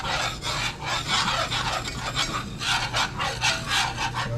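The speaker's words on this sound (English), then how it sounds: "Gotta keep it whisked." A whisk scrapes steadily through flour in a pan for gravy, a continuous rasping, rubbing sound in quick repeated strokes, close and fairly quiet, with no voices over it.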